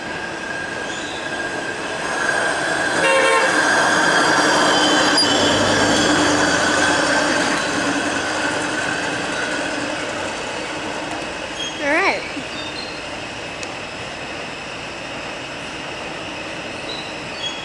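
A CSX train rolls through Route 128 station loudly, its rumble building then easing, with high metallic wheel squeals ringing out and one sharp squeal near the end.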